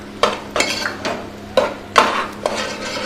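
Curry leaves and a green chilli go into hot oil in a pan while cooking a chapathi side dish: several sharp crackling spits and clinks at irregular intervals over a low sizzle.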